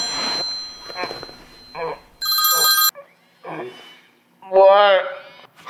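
A telephone bell rings in a bright, loud electronic burst, once clearly between stretches of raised speech in a domestic scene, with voices talking before and after it.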